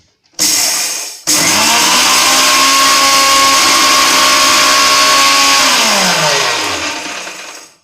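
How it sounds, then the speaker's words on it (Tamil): A kitchen mixer grinder pulverises roasted horse gram into powder: a short loud whirring burst, a quick stop, then a long steady grinding run that winds down in pitch as the motor slows. "இதுவும் ஒரு மிக்சியில் போட்டு பொடியாக்கிக்கலாம்"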